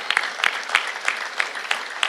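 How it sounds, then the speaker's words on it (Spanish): Clapping from a church congregation praising God during a worship service, a steady crowd applause with rhythmic peaks of sharper claps, moderately near and continuous. "Denle un aplauso al Señor con todo su corazón"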